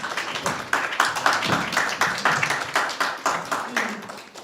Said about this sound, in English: Keep clapping, please, till he sits.